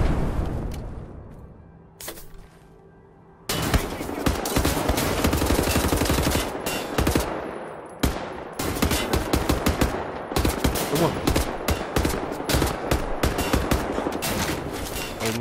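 Heavy machine gun fire in Wolfenstein: The New Order: a short burst, a brief pause, then long, loud, continuous automatic volleys with sharp cracks and booms filling the scene.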